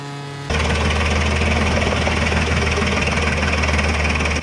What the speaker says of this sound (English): machine operates steadily, the engine's roar blending with the crunching sound of wood being shredded